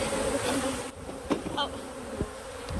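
Agitated honeybees swarm around an opened hive during an inspection, a dense, steady buzzing close by with a few bees darting past the ear and faint handling knocks, no talking.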